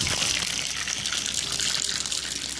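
Water splashing and gushing onto a small grease fire, a steady close rushing pour with no voices.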